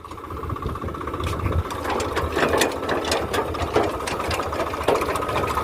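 A tractor-driven potato digging machine works through a field, its engine and clattering gears giving a steady, loud mechanical rattle with rhythmic ticking throughout, close by and unbroken.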